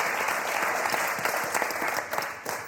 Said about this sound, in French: Donc on va les applaudir très très fort.